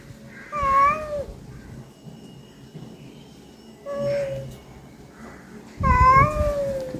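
A cat meows three times, each call clear and close, separated by short quiet gaps with faint background noise.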